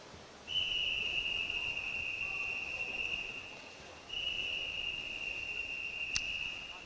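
At a regional swimming championship pool, a whistle signals a swimmer's final 100 metres with a long, steady, shrill blast that briefly dips and then resumes, heard at moderate distance over a constant hall hiss.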